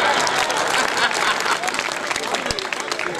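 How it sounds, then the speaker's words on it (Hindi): An audience at a Hindi satirical comedy performance breaks into loud, sustained applause that stays dense and steady for a few seconds, with a scattering of sharper individual claps. "और तालियां आपकी अब बजेंगी"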